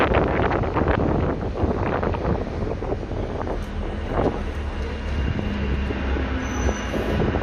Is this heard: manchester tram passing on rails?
yes